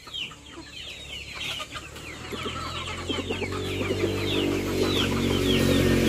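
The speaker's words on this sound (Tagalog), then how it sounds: "Ito yung mga nangitlog na mga manok." Rhode Island Red hens cluck and chatter in a coop, with several overlapping calls close by and a steady low hum underneath that grows slightly louder.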